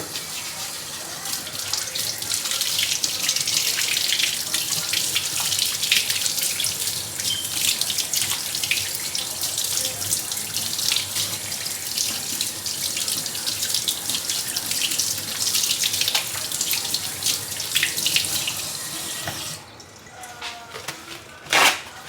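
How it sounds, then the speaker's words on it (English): A kitchen tap runs steadily for about twenty seconds during handwashing before cooking, a loud, continuous hiss that cuts off near the end with a few drips and clatters. "Let's wash our hands for 20 seconds."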